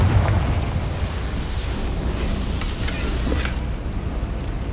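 Spell blasts from Bombarda and Confringo in Hogwarts Legacy, a steady low rumbling roar of explosions with a few sharper pops, fairly loud and continuous.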